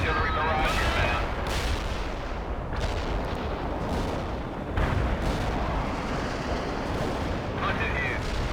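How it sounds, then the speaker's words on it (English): Artillery barrage in the World in Conflict video game: a continuous, loud rumble of distant explosions and gunfire, with sharper blasts cutting through near the start and around the middle. "Anti-artillery barrage inbound."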